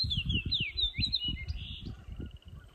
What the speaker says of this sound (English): gotta get some video of this fox sparrow